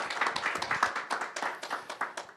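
Workshop audience at an SME finance event claps in a brief, light round of applause, scattered hand claps at moderate distance.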